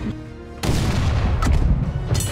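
Heavy cannon fire aboard a pirate ship in Blackwake: after a quieter moment one loud, deep boom erupts, followed by a rumbling stretch of further blasts and battle noise close by.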